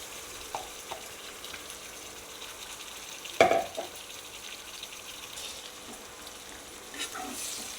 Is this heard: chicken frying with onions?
yes